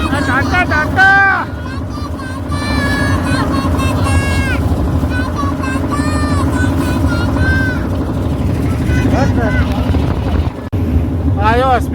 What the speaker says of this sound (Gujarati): પછી રિટર્ન જઈ રહી છે બોટ